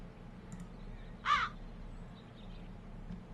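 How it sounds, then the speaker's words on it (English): A single crow caws once in the video game The Dark Eye: Chains of Satinav, brief and clear, over a low steady background hum. "I'll lure the crows into the fireplace"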